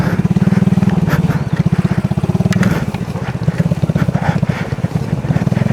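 A motorcycle rides a narrow dirt path about one meter wide on the way to Bromo, its engine close and loud with a rapid, steady throbbing pulse that eases slightly partway through.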